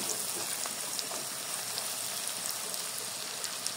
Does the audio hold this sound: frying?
yes